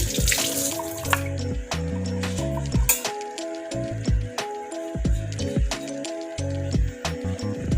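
Running tap water splashes over a pineapple being washed in a sink, a steady rushing flow with shifting splatter as the fruit is turned, close and fairly loud, no talking.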